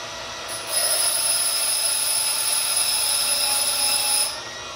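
A small rotary grinder sharpens a tungsten electrode for TIG welding, a steady high whine held for several seconds with a soft rise and fall at each end, no talk.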